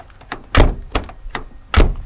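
The door handle of a Renault Twingo RenaultSport 133 is worked repeatedly, a series of five short, close mechanical clunks and thunks with two heavier knocks among lighter clicks.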